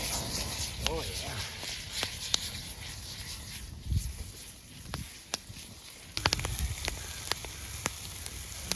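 Venison steaks and eggs frying in butter at a snowy winter campsite: a steady close sizzle with sharp crackles and pops running throughout, under intermittent talk.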